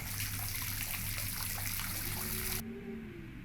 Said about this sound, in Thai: แล้วก๊อกน้ำก็ติด